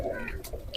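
Pigeon at a loft cooing softly, a brief low throaty coo with faint chirps nearby, quiet and close, no talk.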